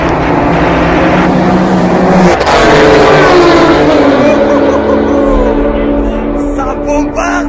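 Race cars roar past on a circuit in Dubai, loud engine notes rising and sweeping by in succession with pitch shifts as each car passes close, under a steady wash of track noise.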